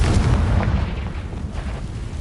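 Confringo spell explosion in Hogwarts Legacy, a loud, deep, rumbling blast that fills the moment and slowly trails off.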